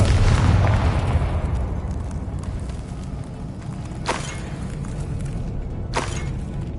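In Hogwarts Legacy, a Confringo fire spell goes off in an underground tunnel with a loud, booming blast that rumbles away over several seconds. Two sharper crackling pops follow later.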